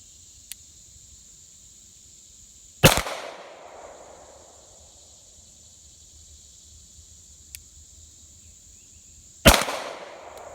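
Beretta 92 pistol fired at a range, two loud sharp gunshots several seconds apart with fading echo, a steady insect-like whine behind them.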